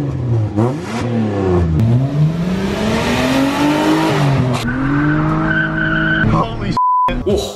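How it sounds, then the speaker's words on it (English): A red Toyota Camry with a muffler delete revs hard, its raw, raspy exhaust climbing and falling through several loud, close pulls, with a short beep near the end. "Oh, that muffler delete was incredible."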